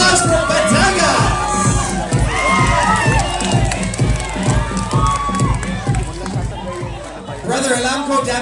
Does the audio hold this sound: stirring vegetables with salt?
no